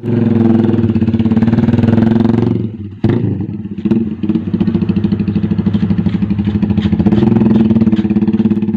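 A Lonsin Sigma 250cc Chinese sportsbike with an open pipe exhaust idles loudly and up close with a deep, throbbing rumble, briefly dipping and blipping around the middle before settling back into a steady, bulky idle.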